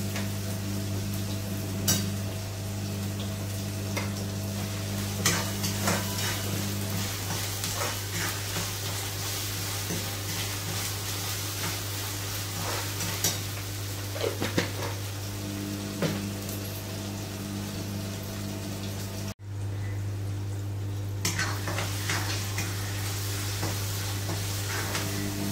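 Tomatoes sautéing in a pan for a mixed vegetable dish, a steady soft sizzle with occasional scraping stirs of a spoon, and a constant low hum running underneath throughout.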